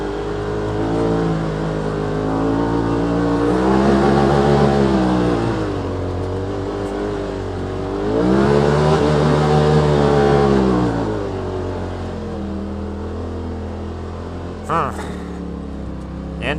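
A 2018 Polaris RZR XP Turbo in low gear on Tusk Terrabite tires drives through snow, its engine droning close and loud, rising in two long surges of revs and easing back between them, with a few brief knocks near the end.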